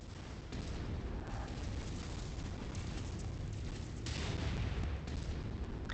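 Incoming missiles explode in MechWarrior 5, a dense rumbling barrage of booms and blasts with a heavier impact near the end, continuous and fairly loud with no talk.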